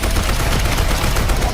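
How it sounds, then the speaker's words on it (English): Dense, continuous gunfire from a video game trailer, rapid bursts of shots packed together at steady loudness with no pauses across the short stretch. "We're using guns now."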